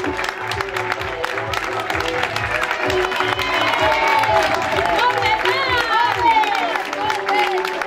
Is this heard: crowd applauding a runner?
yes